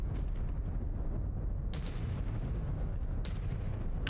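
Mech weapons fire projectiles in MechWarrior 5: Clans, heavy booming shots over a dense low rumble, with two sharp bursts standing out about halfway through and near the end.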